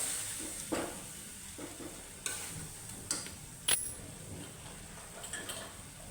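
A spoon scrapes and stirs chakvat (bathua greens) bhaji with gram flour in a pan over a faint sizzle, with several distinct clinks and taps against the pan spaced a second or so apart.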